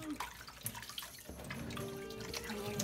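Water splashes and drips as napa cabbage is lifted out of a basin after soaking, with sloshing and trickling close by.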